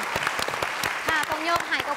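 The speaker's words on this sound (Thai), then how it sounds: "ปรบมือให้หน่อยสิครับทุกคนครับ" A studio audience at a Thai country-song singing contest show applauds in sharp, rhythmic bursts of clapping, with a person talking over the clapping.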